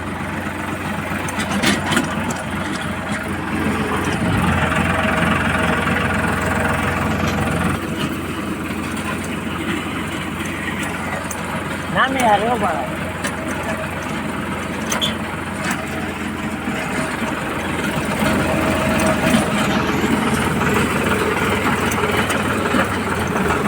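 A mini tractor's engine runs steadily at close range, a continuous mid-to-low chug with slight surges, while people talk briefly over it.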